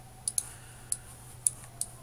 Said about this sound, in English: I can do all my interior decorating just by clicking on it